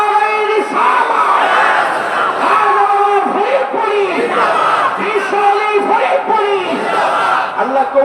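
A large crowd at a religious gathering roars a chanted response to a takbir call, loud massed voices rising and falling in repeated rhythmic shouts that fill the space.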